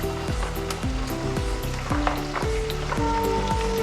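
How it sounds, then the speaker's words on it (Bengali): Garlic cloves hit hot oil in a pan while cooking sukha chicken, giving a steady, close sizzle that runs throughout with a few clinks and stirring sounds. "এবার আমি রসুনটা দিয়ে দিই"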